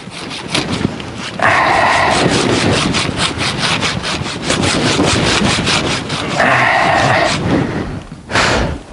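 A hand saw cuts through wood in steady, rhythmic back-and-forth strokes, loud and close, with a short pause before the strokes resume.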